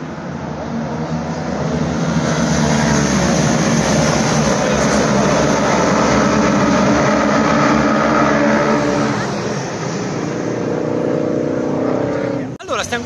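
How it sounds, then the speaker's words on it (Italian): Loud, continuous roar of Superbike racing motorcycle engines at a women's world championship race in Cremona, steady for most of the stretch and easing slightly toward the end. "si sente il rombo dei motori da lontano"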